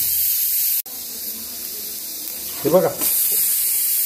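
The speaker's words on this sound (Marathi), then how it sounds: "कांदा, खोबरं, टमाटर तेल न टाकता भाजून घेतोय" Onion, grated coconut and tomato dry-roast in a pan with no oil, giving a steady close hiss that runs throughout, briefly broken near the start; someone speaks a few words partway through.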